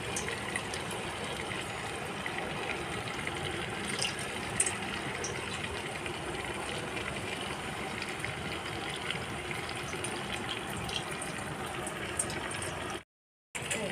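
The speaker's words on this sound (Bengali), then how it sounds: "এরকম ছেঁকে ছেঁকে নিয়ে খোসাটা ফেলে দেবো" Ground mustard paste is pressed through a sieve, giving a steady, close wet sloshing and trickling of liquid that runs almost unbroken, with a brief drop-out near the end.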